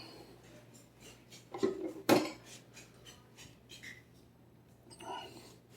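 Deviled egg filling mixed in a bowl, quiet scraping and tapping of a utensil against the bowl with a couple of louder clacks, close and intermittent.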